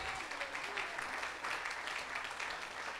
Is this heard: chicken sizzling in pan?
no